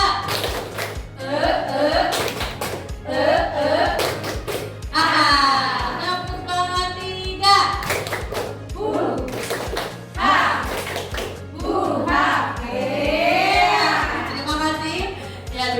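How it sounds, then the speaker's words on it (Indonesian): Schoolchildren at an elementary school in Banten play a rhythmic spirit clapping game: sharp bursts of claps alternate with bright, chanting young voices in repeating patterns, loud and close. "Tepuk tangan 2."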